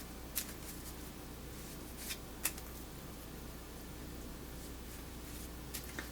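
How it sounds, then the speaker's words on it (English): A deck of oracle cards being shuffled by hand, with a steady papery riffle through most of the stretch and a few sharper slaps and snaps of the cards standing out, close up, with no talking. "I have to shuffle 3 times. And then I have to cut the cards 3 times."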